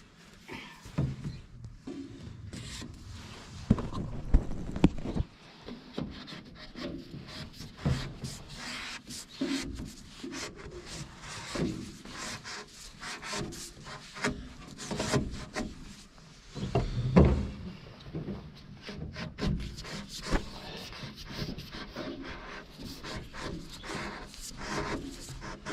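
An old heater hose is dragged out of a Farmall 806 tractor's cab heater, with uneven rubbing, scraping and creaking and a few louder knocks and thumps, close by and continuing for about 25 seconds.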